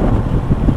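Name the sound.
wind blowing on a coastal road while motorbike touring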